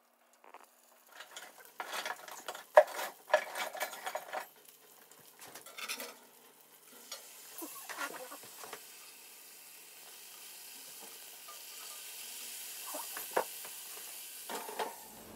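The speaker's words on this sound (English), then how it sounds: "We're going to get the reduction of the actual collard greens. We're going to cook in here." Collard greens cooking in a hot pan, with scraping stirs, rattles and soft sizzling that come in bursts, then settle into a quieter steady hiss.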